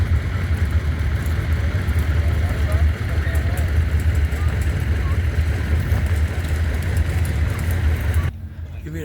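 Old tractors idling at a steam engine show, a loud continuous low engine rumble close by for several seconds before dropping away sharply near the end.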